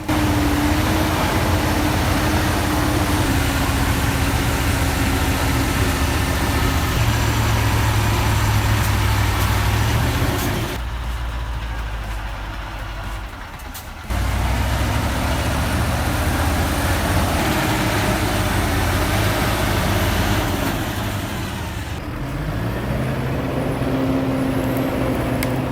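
A Valtra tractor engine runs continuously with a loud, steady low rumble, briefly dipping in level twice before resuming, heard up close with no speech.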